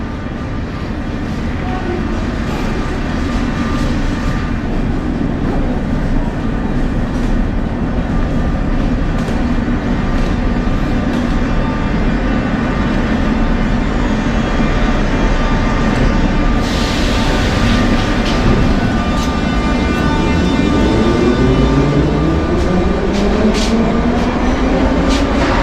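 A subway train in the Kyiv metro runs with a loud, steady roar and rumble, heard from inside. A faint rising whine comes in near the end, and no one speaks.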